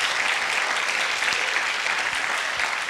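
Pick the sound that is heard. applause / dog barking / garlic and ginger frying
applause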